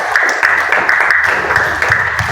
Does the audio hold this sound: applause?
yes